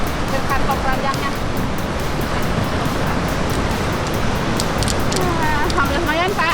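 Ocean waves breaking on the shore, a loud continuous rushing surf with wind noise filling the whole stretch, with voices faintly mixed in.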